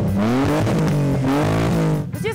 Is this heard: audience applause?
no